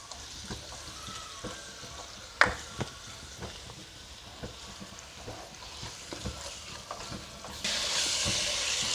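Minced beef keema frying in masala in a karahi, a quiet steady sizzle with occasional spoon scrapes and stirs, growing to a louder hiss near the end.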